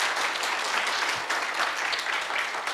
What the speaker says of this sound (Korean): 총장님께 다시 한번 박수 부탁드립니다